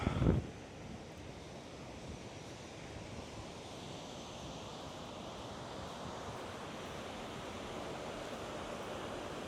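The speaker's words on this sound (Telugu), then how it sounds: "ఇదిగోండి వాటర్ ఫాల్స్" A waterfall near Mbarara, Uganda, produces a steady, broad roar of rushing water, continuous and even throughout, with a brief knock at the start and no voices.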